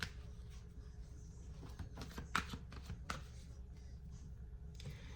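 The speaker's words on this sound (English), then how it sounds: "I've been shuffling it and nothing came out" A deck of tarot cards being shuffled close by, with soft repeated riffling and a few sharper flicks and snaps, faint and steady throughout.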